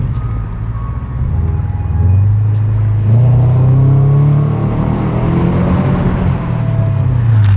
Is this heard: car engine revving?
yes